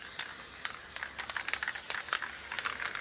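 Black spray paint is sprayed onto a canvas, a steady close hiss laced with light ticking clicks and short bursts.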